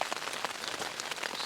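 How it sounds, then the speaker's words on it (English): Light rain patters on a one-person ALPS Mountaineering Zephyr tent, scattered soft drops tapping the fabric against a quiet, close hiss. "it is lightly raining at the moment"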